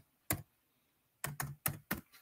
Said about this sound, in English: Let's type something.